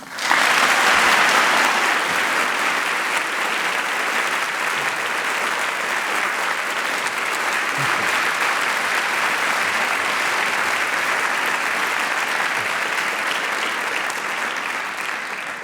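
A large audience at Calvin's January series bursts into loud, steady applause that holds evenly for about fifteen seconds to welcome Eboo Patel.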